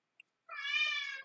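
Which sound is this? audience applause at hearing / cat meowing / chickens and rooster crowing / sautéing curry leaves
cat meowing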